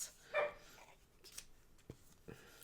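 A dog gives one short, soft bark, faint and somewhat distant in an otherwise quiet indoor room, followed by a few small rustling taps.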